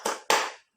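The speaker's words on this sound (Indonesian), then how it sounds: "Kalau kau suka hati, ayo bertepuk tangan." Two sharp bursts of hand clapping from children keeping time with a sung action song in a first-grade classroom, close and loud, the second clap strongest before falling silent.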